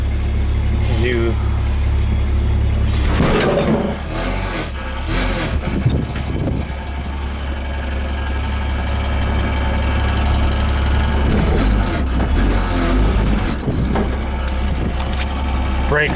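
An AMC Gremlin idling and rolling, its loose transmission cover pan rattling and buzzing over a steady low engine hum, with someone talking through much of it.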